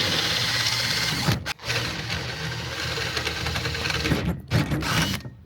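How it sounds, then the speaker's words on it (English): A power drill whirs continuously at close range, drilling holes for a home-built 15m Yagi antenna, briefly cutting out twice before spinning up again. "I forgot to drill out these last two blooming holes."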